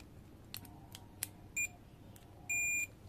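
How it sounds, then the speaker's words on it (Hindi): A multimeter set to its continuity buzzer range gives two short electronic beeps, one brief and one longer, near and fairly quiet, with small clicks of probes being set up on an SCR PCR406S. "मल्टीमीटर को सेट कर लिया है कंटिन्यूटी की रेंज पर"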